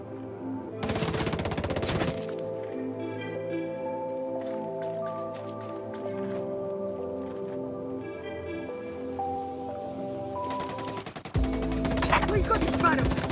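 Gunfire in the video game Ghost Recon Breakpoint: a short, sharp burst of rapid shots, a stretch of game music tones, then another loud burst at the end.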